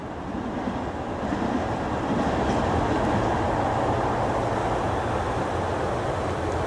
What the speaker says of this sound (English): A diesel train with a very well-known supermarket.